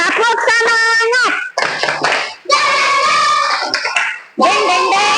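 A group of children in a classroom do a rhythmic spirit clap, steady patterned hand claps mixed with lively chanting voices, close and loud.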